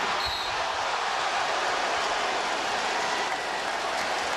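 Basketball arena crowd at a 2003 NBA playoff game between the Orlando Magic and Detroit Pistons roaring after a corner three-pointer, a dense, steady, loud wash of cheering and noise filling the whole stretch.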